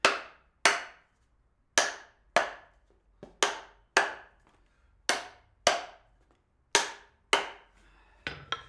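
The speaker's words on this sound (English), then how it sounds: "Can hear on the hammer the sound when you hammer down here if it's all the way down." A hammer strikes down about ten times in a slow, uneven series, each blow a sharp, loud crack close by with a short ringing decay, and silence between hits.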